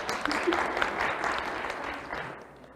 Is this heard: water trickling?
no